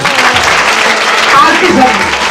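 A crowd at a first-anniversary gathering claps loudly and continuously, the dense applause mixed with a voice speaking over it.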